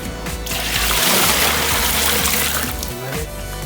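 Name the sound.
water being poured into a pot for biryani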